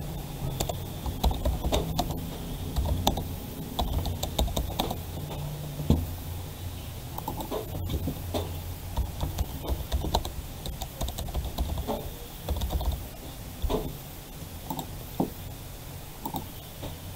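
Fast, continuous clatter of a computer keyboard being typed on, close and steady for the whole stretch, with dense rapid keystrokes and occasional heavier key hits.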